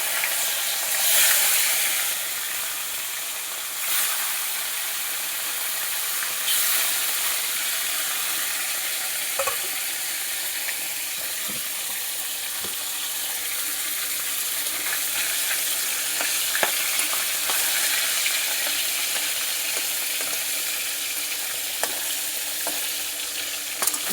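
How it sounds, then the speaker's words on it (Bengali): Pieces of rohu fish frying in hot oil in a wok, a steady broadband sizzle with occasional pops and spatters, close and continuous throughout without talk. "তেলটা ভালো করে গরম করে নিচ্ছি। মাছগুলো দিয়ে দেবো এক এক করে।"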